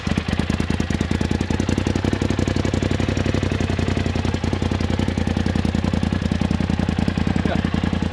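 Just after a cold start, an engine with silicone charge tubes idles steadily with a deep, even grumble, loud and close and running without break.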